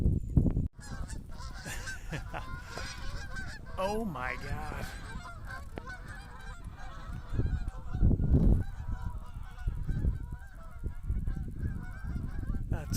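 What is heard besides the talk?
flock of geese honking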